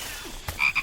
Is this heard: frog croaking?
yes